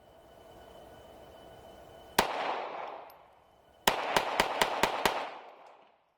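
FN 502 .22 LR pistol fired at a range: one sharp shot, a pause, then a quick string of five close, crisp shots in even rhythm, each with a short ringing tail.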